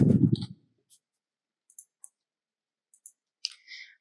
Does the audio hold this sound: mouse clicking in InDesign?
yes